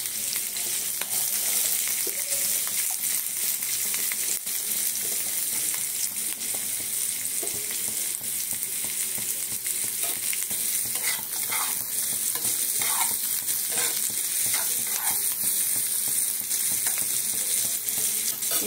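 Capsicum and onion fry together in a hot pan for paneer curry, a loud continuous sizzle with repeated scraping strokes as the vegetables are stirred, close and without speech.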